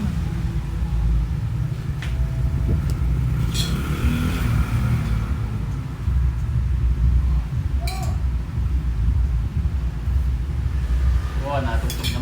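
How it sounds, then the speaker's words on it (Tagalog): A motor tricycle passing on a Philippine street, a steady rumbling engine drone under faint clinks, continuous and fairly loud throughout. "Hindi, tricycle lang."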